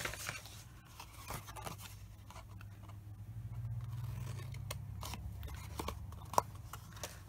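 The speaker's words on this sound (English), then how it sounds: "So just cut in and in, and cut off these 2 tabs." Scissors snipping tabs into a paper matchbox, heard as quiet, close cuts and light paper rustles that come in short irregular bursts. A low background hum runs underneath.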